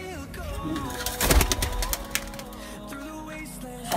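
A female high-flyer breeder pigeon coos intermittently while someone talks over it, with a brief burst of rustling partway through.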